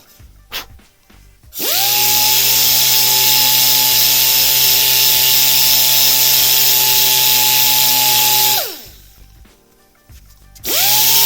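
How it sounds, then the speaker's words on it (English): A Grex pneumatic sander, used in woodturning, runs loud and close for about seven seconds with a steady high whine, preceded and followed by brief clatter and a short restart at the end. "the Grex sander can uses a lot less air, can run on a lot less air pressure"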